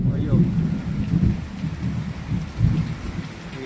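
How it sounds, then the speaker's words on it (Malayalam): Steady rain falls with low rolling thunder rumbling through it during a storm after days without rain, a continuous wash with swells of deep rumble and no talking. "ഇടി വെട്ടുന്ന സൗണ്ടാണ് കേൾക്കുന്നത്."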